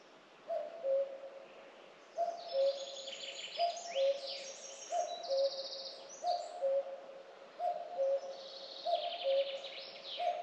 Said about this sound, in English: And there's a cuckoo calling.